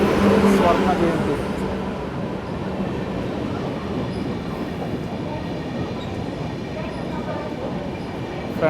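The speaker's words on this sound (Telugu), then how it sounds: "మన ట్రైన్ అయితే వచ్చేస్తుంది, వ్యాప్ 7 లోకోమోటివ్" Swarna Jayanti superfast express hauled by a WAP-7 electric locomotive rolls into a station, a loud steady rumble of wheels and coaches with a brief horn at the start, while a voice talks over it.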